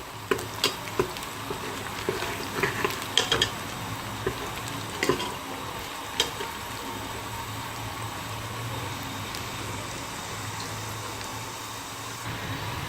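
Sliced onions fry in a pan for Urdu-style khari mash daal, browning toward light golden, giving a steady close sizzle with a few brief clicks and scrapes early on and no talking.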